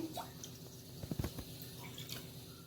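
Water trickles and drips into a vessel, with a cluster of splashy pours near the middle, fairly quiet and close, no talking.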